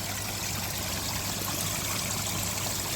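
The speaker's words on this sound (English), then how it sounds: "beautiful flow going over the top of there" Water pours steadily over the edge of a koi pond after the bottom drain line has been cleaned, a continuous close rushing and trickling wash with no pauses, alone without talk.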